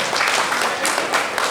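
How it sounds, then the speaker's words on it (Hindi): Audience applause at a numerology workshop at the Constitution Club of India, honoring a Sikh guest; steady dense clapping from a roomful of people fills the whole moment without pause. "तो सरदार जी के लिए भी हमारे तालियां लगा दो"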